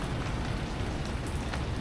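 Steady rain pours onto surfaces around a sheltered barbecue area of an apartment complex in Ho Chi Minh City, a dense unbroken hiss with no voices.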